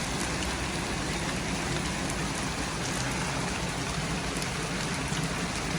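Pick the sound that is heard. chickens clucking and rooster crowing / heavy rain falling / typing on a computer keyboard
heavy rain falling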